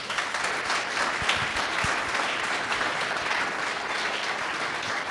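Steady applause from an event crowd, dense and continuous clapping at moderate volume throughout, with no talk over it.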